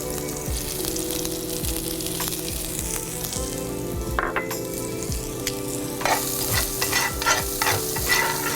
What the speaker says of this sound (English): Now I'm going to go ahead and add in my shallots.